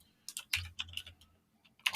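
Keys clack on a computer keyboard in short, irregular bursts of close, crisp taps with brief pauses, quiet and with no talking.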